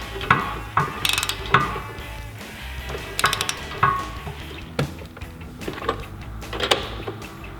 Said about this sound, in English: we're gonna tighten the heim bolts and we're gonna tighten the heim jam nut